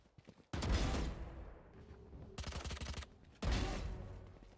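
Gunfire in the video game Valorant, with three loud bursts of rapid automatic shots, each ringing out and decaying, and a faint tone between them.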